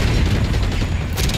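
A rocket explosion in the video game Call of Duty: Black Ops 6, a loud, dense boom in the middle of continuous battle noise, with a sharper burst near the end.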